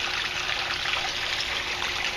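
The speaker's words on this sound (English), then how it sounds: "as you can see now, the water in this grow bed is now filling back up" Water trickles and splashes steadily back into an aquaponics grow bed, a continuous close, even flow with no voices.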